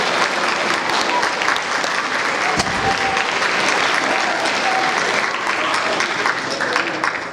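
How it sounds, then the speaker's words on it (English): A school auditorium audience gives sustained applause for teachers and staff at an 8th grade awards event, dense steady clapping filling the room throughout. "I think we need to give a round of applause to these amazing teachers and staff who support you day in and day out"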